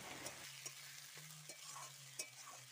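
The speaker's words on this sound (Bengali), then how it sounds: "দিয়ে ভালো করে কড়াতে নাড়াচাড়া করছি তেলের মধ্যে" Chopped tomatoes stirred in hot oil in a kadai, a soft continuous sizzle with a low hum beneath and several sharp scraping knocks of the spoon at irregular intervals, close and fairly quiet.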